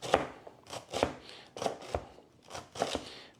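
A knife slices thinly through a vegetable on a cutting board for a surimi seafood salad, giving about seven crisp separate cuts in an uneven rhythm, close and fairly quiet.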